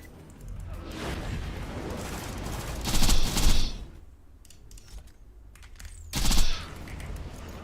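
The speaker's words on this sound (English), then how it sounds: "Throwing grenade." Gunfire and a grenade blast in the video game Borderlands 2, rapid bursts of shots with two loud explosive swells a few seconds apart, close and punchy over a constant low rumble.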